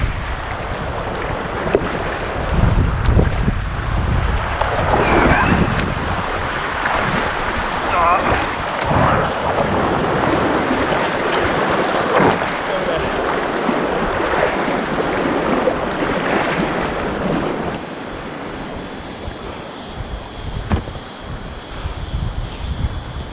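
A packraft bumps and scrapes through shallow, boulder-strewn river rapids under a constant loud rush of water, with wind buffeting the microphone throughout.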